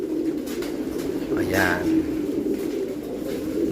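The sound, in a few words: pigeons cooing in their pens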